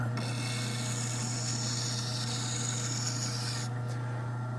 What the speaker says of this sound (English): So I'm just filing at a slight angle there, and get a little bit of a crown.